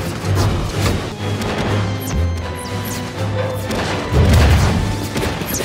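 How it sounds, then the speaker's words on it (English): Fireworks bursting in a scene from Charlie and the Chocolate Factory (2005), a run of loud booms and crashes under a sustained musical score. "there's a bunch of fireworks everywhere"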